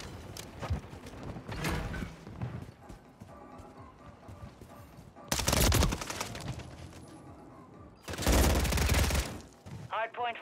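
Gunfire in Call of Duty Modern Warfare 3 on the Tokyo map, with two loud dense bursts of shots about six and eight seconds in, over a busy game soundscape with shouted callouts.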